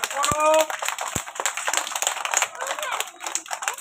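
Children at a Teachers' Day prize-giving clap their hands in a busy, continuous patter, while a voice speaks over the start and the claps carry on close and fairly loud.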